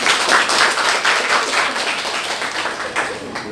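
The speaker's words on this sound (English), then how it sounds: "Give applause." Group clapping in a classroom full of students, steady and dense for several seconds and fading slightly toward the end, with some voices mixed in.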